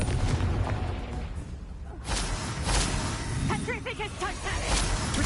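Confringo spell explosions in Hogwarts Legacy, heavy booms and whooshing blasts that repeat through a loud, busy game mix, with a short tonal chime passage near the end.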